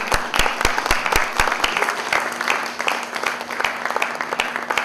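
At a film's first-look event, an audience claps in a fast, rhythmic beat with individual claps standing out, loud and close over a low steady hum.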